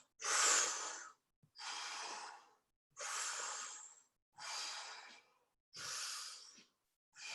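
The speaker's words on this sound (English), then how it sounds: "We're going to do a big breath in." A series of five deep, audible breaths during a guided yoga and breathing exercise, each lasting about a second with steady pauses between them, close and clear with no talking.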